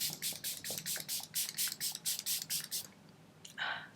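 Dalba First Spray Serum misted onto the face in a quick series of about a dozen short, close, rhythmic pump sprays, followed by a pause and one final burst.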